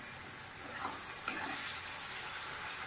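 Garlic, green chili and shrimp frying together in a pan, a continuous close sizzle with soft stirring scrapes and a light knock partway through.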